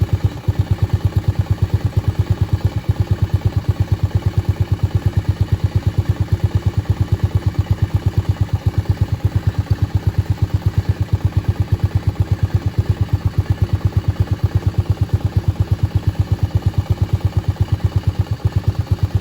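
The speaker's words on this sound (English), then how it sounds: "it started it up without a choke on at 2500 RPM. And it's slowly going down as it's starting to get warm" A Honda Navi motorcycle engine idling fast just after a cold start without choke, a loud, close, steady rhythmic putter that stays even throughout with no voices.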